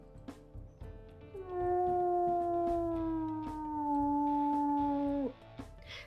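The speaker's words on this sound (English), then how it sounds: "We'll go ahead and we'll listen to his howls as well." A wolf in a video game howls in one long, steady, mournful tone that slowly falls in pitch, clear and close, with a few faint clicks around it.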